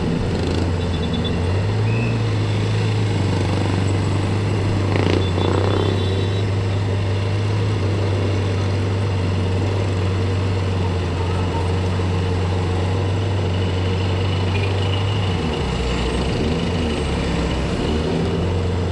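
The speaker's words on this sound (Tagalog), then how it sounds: "Grabe naman ang traffic dito." Road traffic on a busy street, captured from a motorcycle rider's helmet camera, with a steady low engine and traffic rumble that runs loud and continuous throughout.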